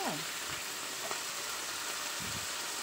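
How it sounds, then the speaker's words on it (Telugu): Potato pieces fry in hot oil for a potato fry, a continuous soft hiss and sizzle with faint bubbling, steady and fairly quiet throughout. "నూనె కొంచెం వేడెక్కిన తర్వాత ఈ పొటాటోస్ అన్నీ వేసి ఒక్కసారి తిప్పి కదపకుండా అలా పెట్టేసేయండి"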